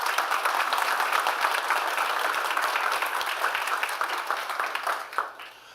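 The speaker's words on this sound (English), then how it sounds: "So I really want to give them a round of applause." Keynote audience applause, a dense, even patter of many hands clapping at moderate level that tapers off near the end.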